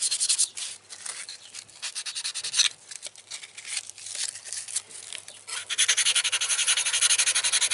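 A knife blade is filed by hand without a power tool, giving loud, close, rhythmic rasping strokes in repeated back-and-forth bursts, briefly pausing before a steady run of fast strokes near the end.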